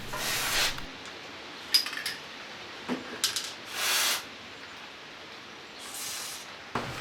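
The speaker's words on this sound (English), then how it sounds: "give all the moving parts a good spray of grease." Several short hissing spray bursts of grease onto moving engine parts, some brief and one longer, separated by quiet gaps and a few light metallic clinks nearby.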